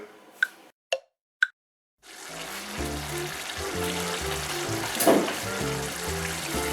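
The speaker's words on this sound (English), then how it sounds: "30 minutes, just leave it alone, just simmering nicely." Maltese baked rice mixture (ross il-forn) simmering in a cooking pot: a few soft plops close by, then a steady bubbling sizzle that continues without pause and with no voices.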